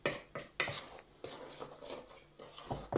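Salt, sugar and flour being stirred together in a bowl for brioche dough, a series of scraping, clinking strokes of a utensil against the bowl in an uneven rhythm, close and fairly quiet.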